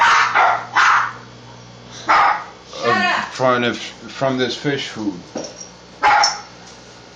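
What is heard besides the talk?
dogs barking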